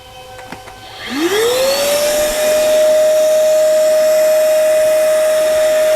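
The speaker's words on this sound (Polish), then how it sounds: "Odpalamy w takim razie i frezujemy." A hand router spins up with a rising whine, then holds a loud steady high-pitched drone while milling, mixed with a strong vacuum extraction rush.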